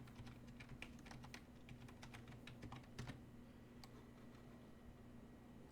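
A computer keyboard is typed on in quick bursts of close, crisp key clicks as an IP address is entered, with a steady low hum underneath and no speech.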